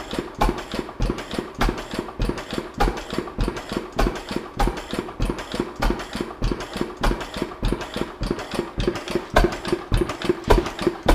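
A vintage stationary engine running lean on fuel chugs in a steady, rapid rhythmic beat, loud and close, each firing stroke distinct and even, with no voices over it.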